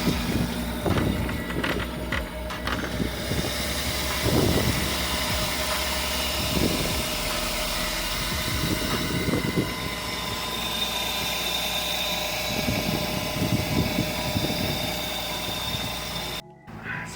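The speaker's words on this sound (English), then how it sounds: "The engine just kind of settled down a bit." An old, rusty engine runs just after starting, a steady mid-pitched idle with a rough, rhythmic pulsing throughout and no voices.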